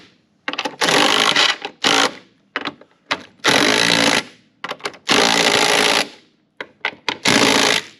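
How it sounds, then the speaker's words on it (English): An impact gun drives down the control arm bolts on a Saturn SW2 with an 18 mm socket. Loud, close bursts of rapid hammering come in uneven runs of about a second, with short blips and quiet gaps between them. "Now we come over here with the 18 and we tighten these down."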